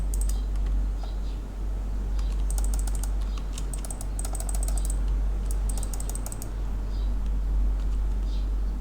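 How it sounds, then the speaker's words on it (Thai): Steady typing on a computer keyboard while replying to a message, close and clear, with irregular runs of key clicks over a low background hum and no talk. "เดี๋ยวขอเดี๋ยวค่อยพิมพ์ตอบเขาแล้วกัน"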